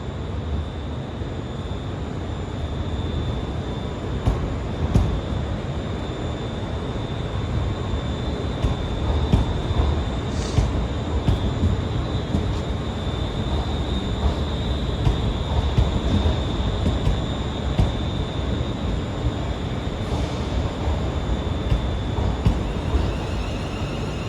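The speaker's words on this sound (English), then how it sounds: "And arriving in now is the 1019 Scotrail service, terminating here at Glasgow Central from Paisley Canal." A ScotRail Class 380 electric train pulls into Glasgow Central station, a steady loud rumble of wheels and motors under the station roof with a sustained whine and occasional clicks, no voices.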